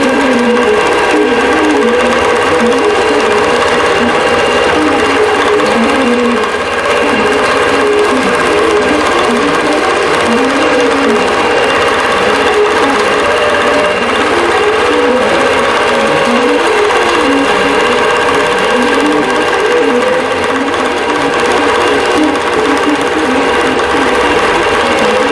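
Embroidery sewing machine stitching a snowman design onto a winter table runner, a steady loud rhythmic whirring and needle chatter running continuously and alone throughout.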